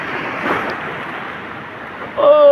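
Wind and waves at a beach rush in a steady wash, loud and close, swelling slightly at moments. A voice cuts in briefly at the very end.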